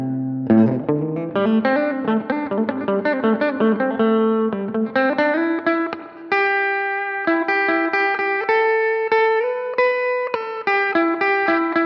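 A modded beginner electric guitar on the bridge pickup with a crunchy, lightly overdriven tone, playing fast picked riffs and then sustained chords, loud and up close with no voices.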